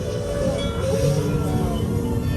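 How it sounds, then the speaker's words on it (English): A train lurches and begins to roll, a continuous heavy rumble with metallic squealing tones and a steady hiss, loud and close with no pauses. "the train gave a sudden lurch and started moving"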